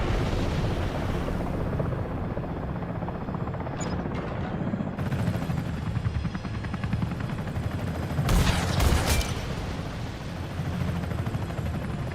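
Gunship helicopter in the Comanche video game firing unguided missiles, with a steady heavy rotor and engine rumble throughout and bright bursts of launches and blasts cutting through, one especially loud near the end.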